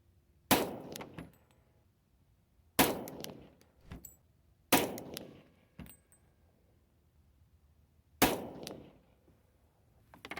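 Glock pistol fired at a target 100 yards away with a stabilizing brace attached: four sharp, loud gunshots spaced a couple of seconds apart, each with a short ringing tail, and no talking.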